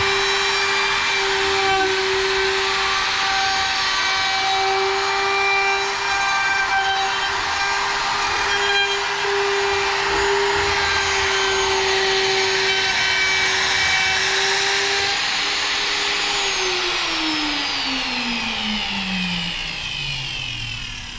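A wood router's bit whines at a steady high pitch, then winds down in a falling tone as the motor coasts toward a stop, loud and close with no talk.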